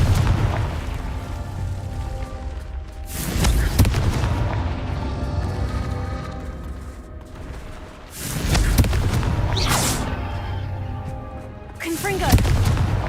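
Confringo fire spell blasts in Hogwarts Legacy, three heavy booming explosions spaced a few seconds apart, each a loud burst over a rumbling battle backdrop.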